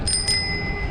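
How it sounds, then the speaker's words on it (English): A rotary bell on a beach cruiser bicycle is flicked twice in quick succession, giving a bright, close metallic ring that lingers briefly as a sustained tone. "these bells actually, it's a rotary bell"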